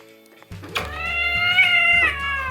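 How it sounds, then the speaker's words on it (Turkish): A cat lets out one long, loud, wavering meow up close, rising then trailing off, over a low background hum. "Bu da çok güzel bir kedi."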